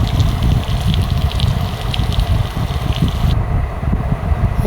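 Broth poured into a pot of mutton curry, a loud close gushing rush of liquid with low rumbling, steady for several seconds.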